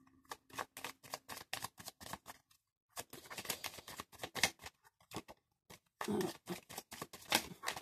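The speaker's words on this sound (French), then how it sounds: "Donc je vais prendre l'oracle, le manuscrit que je brasse" Oracle cards are shuffled by hand in quick, close riffling bursts, with short pauses between runs of crisp flicking and a brief quiet break.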